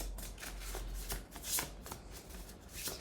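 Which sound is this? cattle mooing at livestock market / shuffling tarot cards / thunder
shuffling tarot cards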